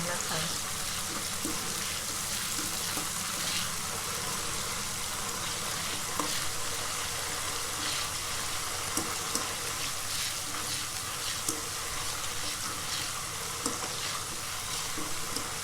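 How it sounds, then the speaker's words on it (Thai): Peanuts frying in oil over medium heat produce a dense, continuous sizzle and crackle. The sound is close and steady, with scattered small pops throughout. "ทอดไฟกลางๆนะคะ"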